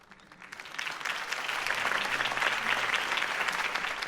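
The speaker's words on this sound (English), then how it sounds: "If only Mr. Wayne, my campaign's largest backer, could have heard that applause" Crowd applause after a campaign speech in the Batman Telltale video game, swelling up from quiet over the first second into a sustained, fairly distant roar of many clapping hands.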